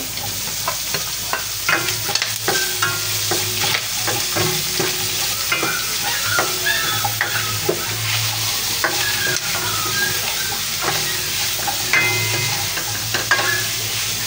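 Garlic and onion are sautéed with pork in a pan, a steady sizzle under repeated scraping and clanking of a spatula stirring at an irregular pace, close and fairly loud.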